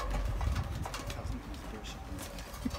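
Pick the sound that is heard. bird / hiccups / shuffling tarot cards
bird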